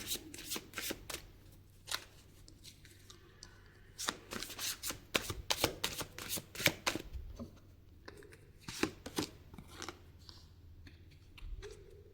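Tarot cards are shuffled by hand in repeated quick riffling bursts across the whole stretch, close and fairly quiet, with no voice over them.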